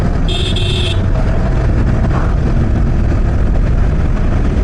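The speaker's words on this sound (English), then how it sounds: "Now only four-wheelers and two-wheelers are passing by here." Cars and motorbikes pass on a national highway through dense forest in the Western Ghats: loud, continuous engine and road roar with a brief high beep near the start.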